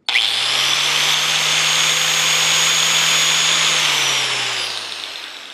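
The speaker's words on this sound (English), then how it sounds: "I've got a 4-inch grinder from the shop. It's gonna be noisy, but here we go." A 4-inch angle grinder powered from a portable power station spins up sharply, whines loudly and steadily at close range, then winds down as it is switched off.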